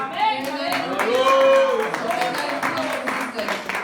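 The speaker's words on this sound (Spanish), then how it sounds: "denle un aplauso al Señor de nuevo" Clapping from a church congregation during a Spanish-language sermon, with scattered hand claps running under raised voices and sung or cheering tones for a few seconds.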